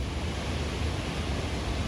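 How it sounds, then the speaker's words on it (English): Water released through a dam rushes beneath Bull's Bridge in Connecticut, a steady broadband roar at an even level, with no other sounds over it. "Here they are releasing water to the dam, through the dam, that then comes and runs underneath Bull's Bridge"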